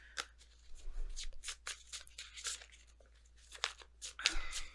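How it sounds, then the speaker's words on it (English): Tarot cards are shuffled close by in quick, uneven bursts of papery riffling and slapping, fairly quiet against a low hum, with no speech. "If I could get the shuffling part down"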